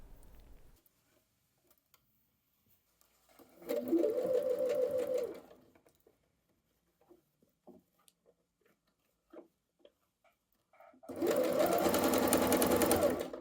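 A sewing machine stitches fabric for a Know Me ME2100 sewing pattern in two distinct runs, one about two seconds long and a louder one near the end, with faint handling taps in the quiet gap.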